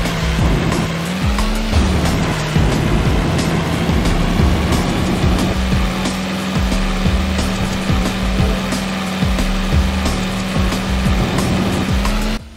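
Kart engines whine and buzz loudly in the PSP racing game Kao Challengers, with a sustained motor drone, rapid clattering and repeated tire squeals and skids running throughout.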